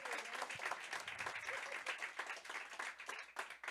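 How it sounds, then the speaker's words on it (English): An audience at an evening listening session in a hall gives a round of applause, a sustained, fairly faint patter of many hands clapping that keeps going before it starts to thin out. "Let's give them a round of applause."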